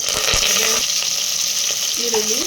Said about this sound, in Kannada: ಕರಿಬೇವು, ಮೆಣಸಿನಕಾಯಿ ಹಾಕೊಂಡಿದ್ದೀನಿ. ಇದು ಫ್ರೈ ಆಗಲಿ.